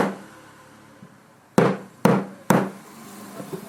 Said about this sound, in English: you bang it with a hammer and you see what can happen